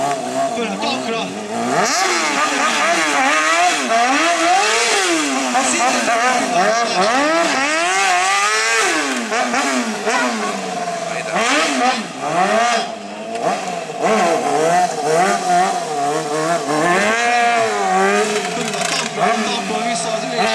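A street-fighter stunt show motorcycle engine revs up and down repeatedly, loud and close, its pitch swooping continuously, with crowd noise and talk in the background.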